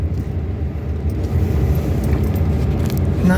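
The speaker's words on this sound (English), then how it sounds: "Here we go, up the driveway. Yeah, just spinning." A truck's wheels spin on an icy driveway, a steady low engine rumble and churning tire noise that holds constant and slightly builds, loud and close throughout.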